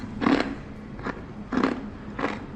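Crunchy homemade chakli snack gets bitten and chewed up close, making four crisp crackling crunches in an uneven rhythm with short pauses between them.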